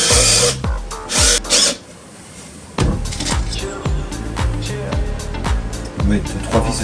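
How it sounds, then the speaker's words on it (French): Power drill driving self-drilling screws into a wooden nest box for blue tits, heard as several short loud whirring bursts with pauses between, close up, with a little talk around them. "On va mettre 3 vis de chaque côté, comme ça que ce soit bien solide."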